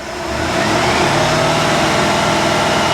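A 1955 Chevy Nomad engine held at raised RPM gives a loud, steady mechanical drone that rises over the first half-second and then stays even throughout, with no voices.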